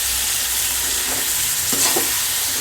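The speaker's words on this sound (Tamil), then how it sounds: "கத்திரிக்காய், தக்காளி இப்படி போட்டு வதக்கி கிண்டி" Eggplant and tomato sizzle steadily in a hot pan while a utensil stirs them, with a few scraping strokes standing out over the frying hiss.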